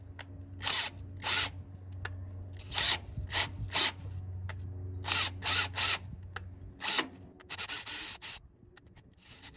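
Drilling into a part on a Ford Model A, heard as a series of loud, close bursts of a high-pitched drill bit cutting, separated by short pauses, over a steady low motor hum that stops partway through.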